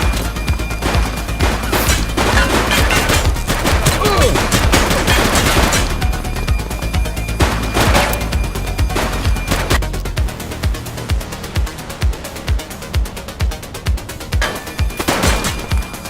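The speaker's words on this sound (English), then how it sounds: "He's shooting!" Gunfire in The Precinct police game, delivered as rapid repeated shots and bursts over a steady low rumble, loud and close, with short gaps before a sparser run of single cracks near the end.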